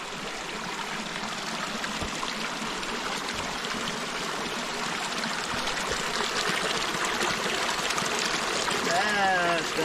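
Cold spring-fed stream flowing in Idaho backcountry, a steady, close broadband wash of running water that continues throughout, with a brief voice-like sound near the end.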